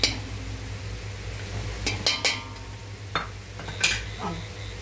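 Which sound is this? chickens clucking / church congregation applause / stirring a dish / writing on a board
stirring a dish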